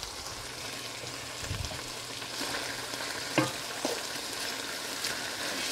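Chicken pieces frying and browning in a pan, a steady close sizzle with occasional stirring clicks and scrapes.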